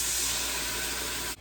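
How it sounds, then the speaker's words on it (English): Dry red wine poured into an Instant Pot, a steady broad hissing splash that runs unbroken and close, then cuts off abruptly at the end. "we're gonna go ahead and pour just like about a half a cup"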